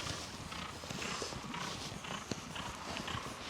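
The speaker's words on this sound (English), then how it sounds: "he's a big chestnut horse with a big white face, similar to Miami Magic actually" A big chestnut racehorse walks at a racing stable, its hooves clip-clopping in a steady, fairly close rhythm over a rustling background with no talk.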